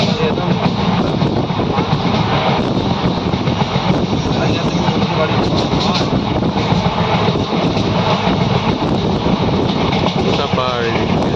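Moving train near Navi Mumbai, a continuous loud rumble and rattle of wheels on track with wind buffeting the microphone, while someone talks over it throughout.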